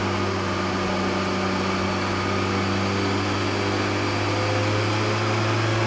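A 2017 Suzuki GSX-R1000 engine holds a steady 3,500 RPM under load on a dyno, giving a constant, droning hum that is loud and close with no talking.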